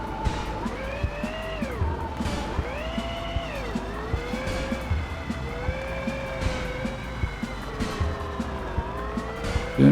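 A car in a video game races around a track, its engine revving steadily and shifting pitch through gears and corners, with a constant engine drone and sliding tire noise for the whole stretch.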